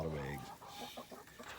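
Backyard hens in a newly built coop cluck and murmur in a short, busy burst, close by, with low voiced tones at the start and overlapping calls throughout.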